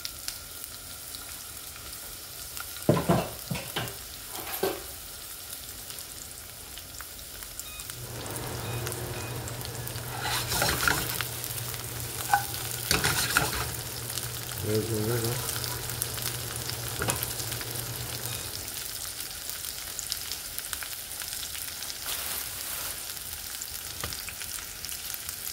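Garlic and onion sautéing in a pan for a homemade brisket dish make a soft, continuous sizzle, broken by scattered sharp clatters and scrapes of stirring, with a stronger frying burst in the middle stretch.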